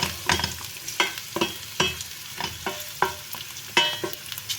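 Peppers, onions and sucuk fry in a pan for menemen, a steady sizzle broken by repeated stirring scrapes and clacks at an uneven rhythm. The sound is close and moderately loud, with no talking.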